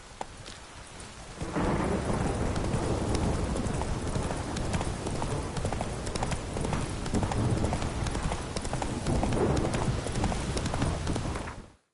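Hooves of the horse Roach clip-clop in a steady, continuous rhythm through The Witcher game world, loud and close, with a rainy, stormy ambience beneath.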